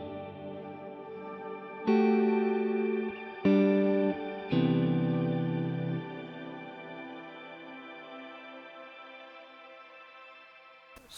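Guitar chords played through a Fractal VP4 virtual pedalboard with shimmer reverb: three strummed chords in quick succession, then a long, shimmering reverb tail that rings on and slowly fades, with no talking.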